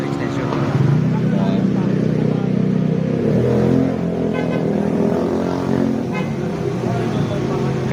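Heavy road traffic on Mindanao Extension, with engines idling and revving nearby, rumbling vehicles passing slowly and a low mechanical drone throughout, while people talk over it.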